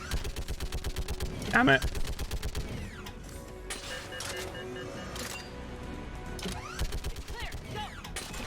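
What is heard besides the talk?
gunfire from the video game Mass Effect 3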